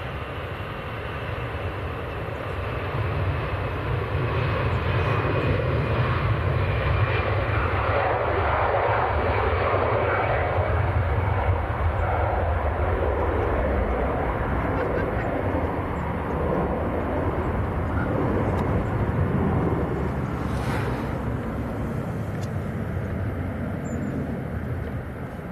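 An EasyJet airliner bound for Belfast passes at Manchester Airport, its engine roar swelling through the middle and easing toward the end, with a thin whine above the rumble and no voices.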